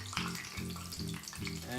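Soft crackling sizzle of Italian flat leaf parsley deep frying in very hot extra virgin olive oil, a faint steady bubbling under a voice speaking over it.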